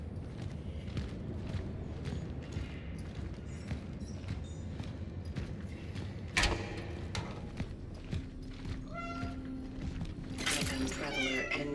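A cat meows faintly several times amid a busy background of footsteps and clatter, with a brief loud knock partway through.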